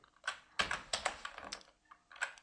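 Typing a Linux shell command on a computer keyboard, a quick irregular run of close crisp key taps with short pauses between bursts, no voice over it.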